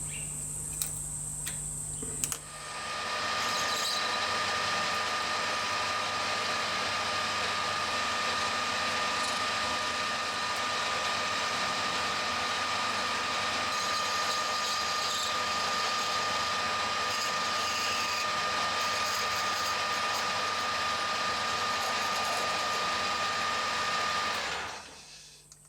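A lathe parting off a metal workpiece for a Stuart Turner 10H engine part gives a steady, loud high-pitched whine and hiss that starts abruptly, holds constant for over twenty seconds, then drops away.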